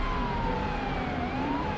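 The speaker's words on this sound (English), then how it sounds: "Sergeant Schimt cuts his siren on approach" A police car siren in the video game FiveM wails in a steady rising and falling tone, with a low rumble of engine and road noise beneath it.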